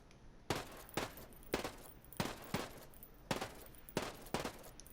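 Rifle fire in the tactical shooter Ghost Recon Breakpoint, a steady series of about nine evenly spaced loud single shots, close and crisp, each with a short tail.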